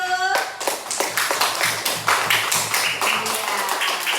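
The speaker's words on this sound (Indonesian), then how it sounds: "Tepuk tangan dulu." Schoolchildren in a classroom clap their hands together in a quick, fairly loud burst of separate claps with a slightly uneven rhythm, and a high tone sounds at the start.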